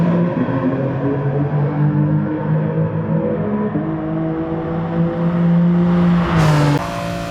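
Race car engine in Gran Turismo Sport at Laguna Seca drones loudly and steadily with shifting harmonic pitch, then a sharp rev flare near the end before settling back.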